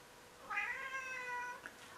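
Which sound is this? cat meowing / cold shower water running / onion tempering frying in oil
cat meowing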